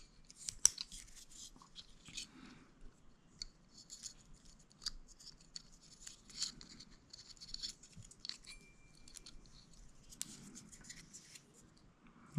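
A small knife scrapes and cuts silicone off a tiny drone gimbal flex-cable connector, giving close, quiet scratchy strokes in irregular bursts with faint pauses between them.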